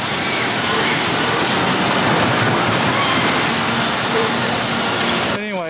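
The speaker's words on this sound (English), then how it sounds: "Phoenix is such an awesome roller coaster." A loud, steady rumble of the Phoenix roller coaster train at Knoebels Amusement Resort running along its track, broadband and continuous, cutting off abruptly near the end.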